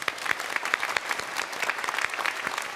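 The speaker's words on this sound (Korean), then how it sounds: "우리 박수로 환영하겠습니다." A church congregation at a Sunday service claps to welcome newcomers, a brief burst of many hands with distinct sharp claps standing out from the dense patter, fairly close.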